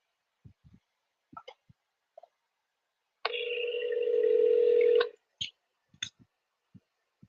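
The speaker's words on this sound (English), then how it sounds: "Let me know in the chat if you can hear the dial tone good right now." A steady telephone dial tone plays alone for about two seconds, framed by scattered soft clicks and taps before and after.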